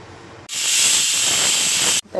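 A pressure cooker on the stove, cooking chicken biryani, lets out a loud, steady steam whistle, a sharp hissing blast lasting about one and a half seconds before cutting off abruptly.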